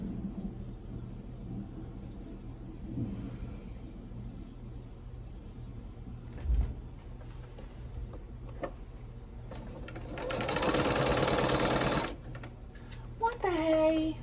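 A sewing machine stitches log cabin quilt pieces in a quiet room, with a short burst of running stitches near the end. Before it there is soft handling noise and faint low talk.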